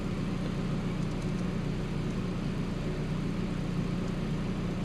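A tuned Audi S3 with a 1.8T 20-valve engine and a big Garrett turbo idles steadily, a low continuous rumble and whir with no talk over it.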